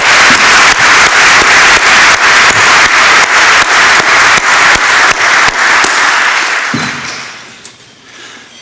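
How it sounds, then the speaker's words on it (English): Loud, dense applause from an audience at an annual meeting, steady clapping for about six seconds before fading away near the end. "Can you please join me giving a round of applause for these students?"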